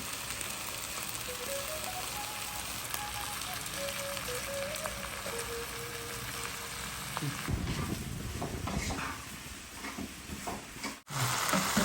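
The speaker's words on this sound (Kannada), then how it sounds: "ಸ್ವಲ್ಪ ಹೊತ್ತು ಎಣ್ಣೆಯಲ್ಲಿ ಫ್ರೈ ಮಾಡೋಣ ಬೆಂಡೆಕಾಯಿಯನ್ನು" Okra (ladies' finger) frying in oil, a steady close sizzle and crackle with faint background hum, stirring clatter and scraping picking up in the second half.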